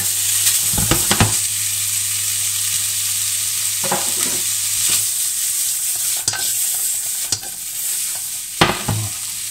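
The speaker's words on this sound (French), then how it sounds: "Ma poêle est chaude, je fais revenir mes crevettes." Shrimp fry in a hot pan with a constant hiss of sizzling, broken up by a few sharp clatters and scrapes of stirring, close and fairly loud throughout.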